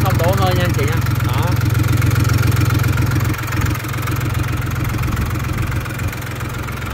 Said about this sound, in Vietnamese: Con này chạy động cơ Isuzu 3 máy dầu nha.